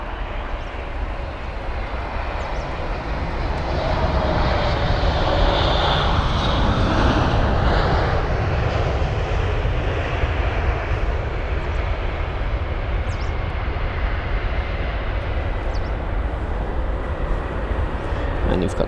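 A British Airways Boeing 777 jet roars steadily at London Heathrow, a broad, distant engine rumble swelling and holding as it passes, heard alone from outside without talk.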